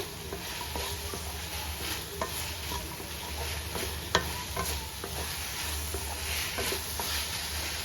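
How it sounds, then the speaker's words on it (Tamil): Green peas kurma ingredients being sautéed and stirred in a pan, giving a steady low sizzle with scattered scraping clicks of a spoon and one sharp tap near the middle, no voices. "இப்போ நம்ம இது எல்லாத்தையும் சேர்த்து வதக்கி எடுத்துக்கலாம்"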